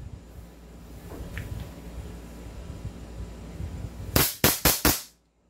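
Four sharp, loud shots from a JWC PitViper gel blaster pistol fire in quick succession near the end, each snapping out and decaying, after a stretch of quiet room noise.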